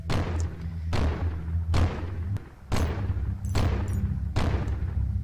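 Pistol gunfire in the video game Fancy Skulls, five loud, evenly spaced shots in about five seconds, each a sharp crack with a decaying thump over a steady low hum.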